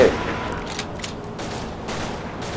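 Gunfire in the World War II video game Commandos Strike Force, heard as a sustained rattle of shots and faint bursts over a steady game backdrop.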